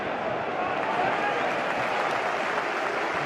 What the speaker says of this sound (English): Giroud gets some applause for that,